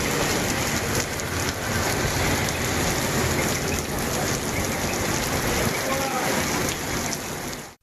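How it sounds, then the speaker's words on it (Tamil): Heavy rain pours steadily in Tamil Nadu, a dense, loud, continuous hiss of downpour on surfaces that runs for several seconds before cutting off abruptly. "3 மணி நேரத்திற்கு மேலாக பெய்த மழையால்"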